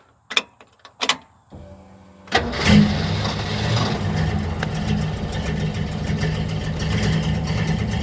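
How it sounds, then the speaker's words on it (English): Carbureted car engine with a leaking exhaust manifold under the throttle body carburetor, heard close up: a few clicks, then the starter cranks and the engine catches into a steady, rough idle with a ticking, puffing rasp. "You can obviously hear that the exhaust manifold is leaking from underneath the throttle body carburetor area"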